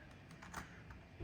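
A computer keyboard is tapped in a few soft, scattered keystrokes as a command is entered at a PC's command prompt during an automatic repair fix, the clicks close but faint.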